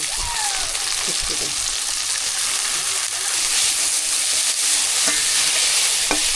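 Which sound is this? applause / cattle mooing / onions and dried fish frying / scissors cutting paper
onions and dried fish frying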